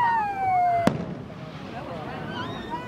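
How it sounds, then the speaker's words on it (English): A single sharp firework bang at an outdoor display, with whistling rockets rising and fading around it, crowd murmur and voices in the background. "I love those fireworks."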